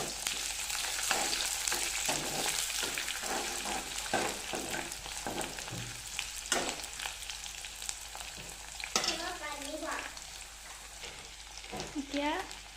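Bay leaves and onion fry in hot oil in a pan, giving a steady crackling sizzle with occasional stirring scrapes over it.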